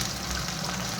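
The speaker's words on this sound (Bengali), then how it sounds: "পেঁয়াজ আর কাঁচা লঙ্কা দিয়ে দিলাম। পেঁয়াজ কাঁচা লঙ্কাটা দিয়ে লাল লাল করে" Chopped onions and green chillies fry in oil, a dense, steady sizzling hiss heard up close for a brief moment with no talking.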